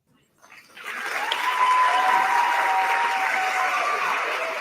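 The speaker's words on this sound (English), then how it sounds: "They're cheering for the joke." An audience cheers and applauds a joke during a live debate, the clapping swelling quickly from near silence into a sustained, loud wash that holds to the end.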